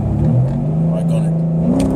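A car engine revs up hard as it accelerates, its pitch climbing steadily through a gear, loud and close from inside the cabin, with people talking over it.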